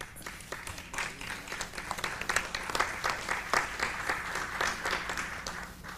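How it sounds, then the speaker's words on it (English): A dinner audience at an award event gives moderate, uneven applause, with distinct individual claps from a modest crowd sounding throughout at a steady level. "Most of the applause came from the has-beens at the head table"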